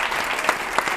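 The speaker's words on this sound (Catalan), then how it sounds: "Àlex, li fem un aplaudiment, sí, perquè ho ha fet molt bé." A crowd claps steadily, a dense wash of applause at moderate volume with a few louder claps standing out.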